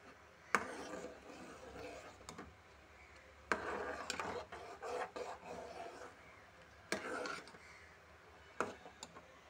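A spatula scrapes and stirs food in a pan with ghee, four rasping bursts of strokes spaced a few seconds apart over a quiet background.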